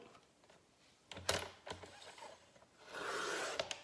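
A paper trimmer slices card sections into triangles, with faint sliding and clicking as the pieces are lined up, a sharp crisp cut, then a longer scraping blade pass close by.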